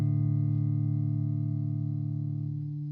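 A sustained guitar tone rings out through a reverb effect on a Fractal Axe-FX III, decaying slowly and evenly over a few seconds with no playing on top.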